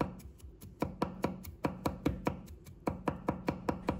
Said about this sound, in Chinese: 再切成末。